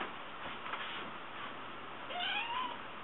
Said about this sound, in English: This is my cool cat.